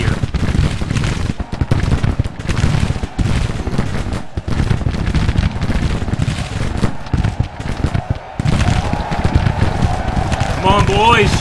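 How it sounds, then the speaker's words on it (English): Musket volleys and artillery from a Civil War battle in the video game Grand Tactician: The American Civil War, a dense continuous crackle of rifle fire with heavy booms mixed in, sustained and loud throughout, with a voice speaking over it. "Keep that gunfire going."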